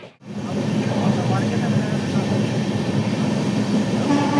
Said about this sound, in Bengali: খুব ঝড়ের গতিতে ট্রেন চলেছে